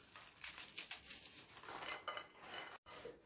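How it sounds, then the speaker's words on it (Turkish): Biscuits being broken into small pieces in a bowl while making a chocolate mosaic cake, giving a steady run of close, dense crunching and clattering with brief clinks against the bowl, no talking, and a short silent gap near the end. "Şimdi bisküvilerimi küçük parçalar halinde kırıyorum"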